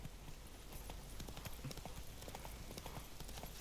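In The Witcher 3, the horse Roach's hooves clip-clop in a steady rhythmic gait, fairly quiet under a continuous low background rumble.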